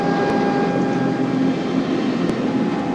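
A Pan Am Boeing 747 taxiing on an airport runway produces a loud, continuous jet engine roar with a steady whine, close and unbroken throughout, with no voices.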